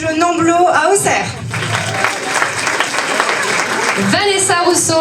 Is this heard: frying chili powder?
no